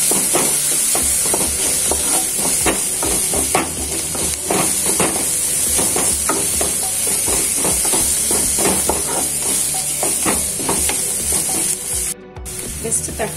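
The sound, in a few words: sautéing ginger garlic paste in a pan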